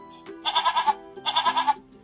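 A recorded goat bleat plays from a children's sound picture book, two loud wavering bleats with a short pause between them, close and clear.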